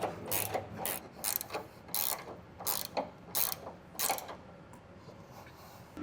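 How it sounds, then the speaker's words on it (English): A 3/4 inch ratcheting wrench snugs down L bracket bolts on a weight distribution hitch, giving a series of short, sharp ratchet clicks in irregular bursts, close and clear with no talking. "I'm just going to take my 3/4 inch ratcheting wrench here and just snug these down"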